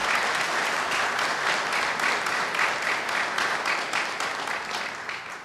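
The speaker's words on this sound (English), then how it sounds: "Let's give him a round of applause." An audience at a police chief's oath-of-office ceremony gives a visiting police chief a round of applause, many hands clapping loudly and evenly before the sound gradually tapers off.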